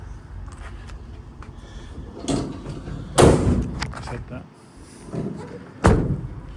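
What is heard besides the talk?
van's side loading door being shut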